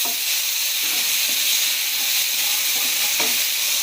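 Tomatoes fry in a pan for Chettinad chicken kurma after ginger-garlic paste, making a loud, steady, close sizzle and hiss with faint stirring scrapes throughout.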